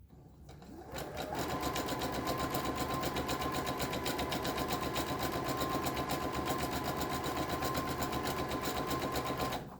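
A sewing machine runs one long continuous gathering stitch on its longest stitch setting through fabric, a steady, fast mechanical whir that starts after a second and holds at an even level to the end.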